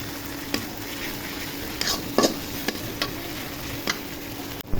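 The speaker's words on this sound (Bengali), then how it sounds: "আদা রসুন বাটা দিয়ে ভেজে নিব।" Ginger garlic paste frying in hot oil gives a steady sizzle, broken by a few sharp scraping taps of stirring.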